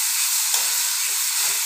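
Chopped tomatoes hit hot oil in a frying pan, a steady, close sizzling hiss with faint bubbling, cooked for a spiced tangra fish curry.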